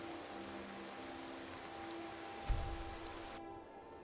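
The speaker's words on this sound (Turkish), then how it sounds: "Yağmur dinmedi." Steady rain patters on a surface, a dense hiss that holds throughout, with a brief low thump partway through.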